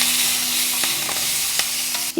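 Loud, steady sizzling of washed frozen corn frying in a hot pan, with occasional scraping stirs and small pops, no voices.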